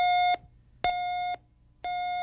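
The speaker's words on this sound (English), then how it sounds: "the system will detect the change in weight on the sensor mat and the alarm will sound." A Bed Check Model VR bed exit alarm, triggered by weight change on its sensor mat, sounds three evenly spaced electronic beeps, each steady and about half a second long, with short silent gaps between them and no voices.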